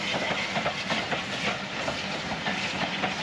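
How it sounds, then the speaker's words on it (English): An old-fashioned steam-style train passes close to a campsite full of caravans, giving a steady, moderately loud rumble and hiss with rhythmic rail clatter throughout. "Check the Harry Potter train."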